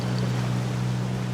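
Ship engines and water in the strategy game Yuri's Revenge: a steady low droning hum with a washing, wave-like noise bed, continuous and even throughout the short moment.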